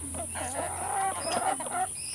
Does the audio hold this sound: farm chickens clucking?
yes